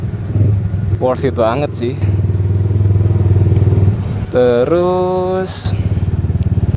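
A Yamaha R15 V3 motorcycle fitted with a Daytona exhaust idles with a deep, throbbing burble and revs up twice in rising surges, with someone talking over it.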